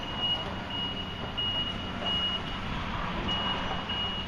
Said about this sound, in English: Nice truck.